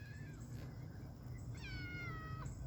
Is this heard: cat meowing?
yes